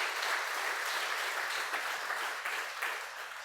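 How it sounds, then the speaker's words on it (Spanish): A church congregation claps for the Lord in a brisk, continuous burst of applause that fades slightly toward the end. "Dale un aplauso al Señor, por favor."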